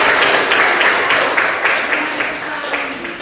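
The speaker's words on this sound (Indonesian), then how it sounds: "Iya, tepuk tangan." An Indonesian classroom-style audience breaks into loud, sustained applause, many hands clapping densely and evenly throughout, fading slightly toward the end.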